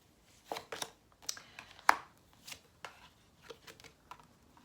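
Oracle cards are shuffled by hand, a series of soft, irregular slaps and riffles, close and quiet with short pauses between them.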